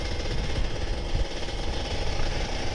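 An old Kawasaki Ninja RR 150 two-stroke motorcycle engine runs at low RPM, giving a loud, close, rough and uneven chattering drone with no break.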